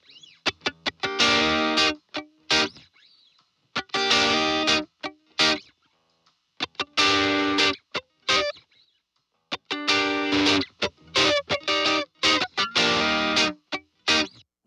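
Electric guitar driven through a Safari Pedals Planet of the Amps pedal set to a small Fender-style tweed amp tone, loud distorted chords strummed in repeated bursts with short silent gaps between phrases, no talking.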